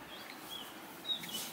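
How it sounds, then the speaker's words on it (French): Faint birdsong drifts in from outdoors on a mountain side in Tenerife, with a few thin, high chirps and short whistles scattered over a soft, steady background hiss. No one speaks. "Vous entendez les oiseaux ?"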